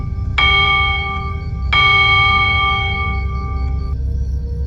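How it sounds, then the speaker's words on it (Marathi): A doorbell chimes twice in a dim horror setting, each ring a sharp bright tone that lingers and fades, with a low rumbling ambience underneath. "प्रदीपने तसं पुन्हा एकदा बेल वाजवली"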